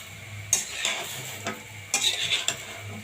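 Prawns with salt, turmeric and chili are frying in a pan: a steady close sizzle with scraping stirs and clinks of a utensil against the pan every second or so, and no talking.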